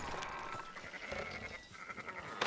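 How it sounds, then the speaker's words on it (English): Sheep bleat in the Red Dead Redemption video game, several calls overlapping at moderate volume over a steady busy ambient bed, with one sharper bleat near the end. "Fine sheep."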